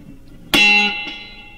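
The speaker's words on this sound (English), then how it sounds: "And then we'll hear our delay." A single plucked electric guitar note rings out, followed by a quieter repeat about half a second later as the echo fades.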